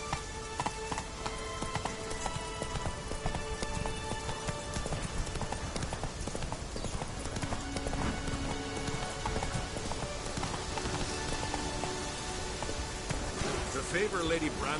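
Roach the horse gallops in The Witcher 3 on Skellige, a fast, steady clip-clop of hooves running throughout under game music and ambience, with voices faintly in the mix.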